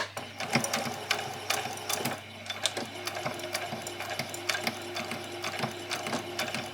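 A sewing machine runs steadily, stitching back and forth across fabric for fairy wings, with a constant mechanical whir and rapid rhythmic clatter, fairly close and alone without talk.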